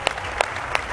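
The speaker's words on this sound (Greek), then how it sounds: "Ένα θερμό χειροκρότημα για τη Μαργαρίτα μας." A studio audience at a Greek TV game show claps warmly for a new contestant, a dense, steady wash of close applause with a few sharper individual claps standing out.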